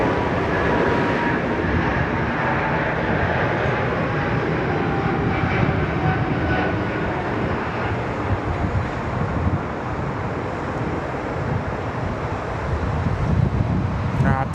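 Airliner departing Sydney Airport, a steady broadband jet-engine roar that holds loud and continuous throughout, with wind and distant traffic blended in and faint voices beneath.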